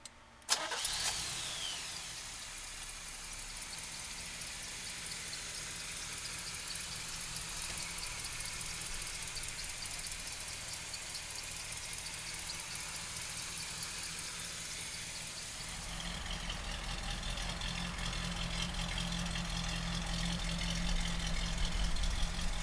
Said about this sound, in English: so listen to the small block